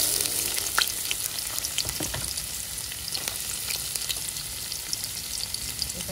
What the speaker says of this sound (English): And now I'm going to fry up my onion.